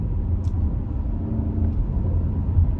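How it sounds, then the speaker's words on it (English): A 2024 Porsche Cayenne S Coupe V8 gives a deep, steady low rumble on lift-off, heard from inside the cabin, with faint crackles near the start and no voices over it. "you've got all these rumbles going on as you obviously lift off"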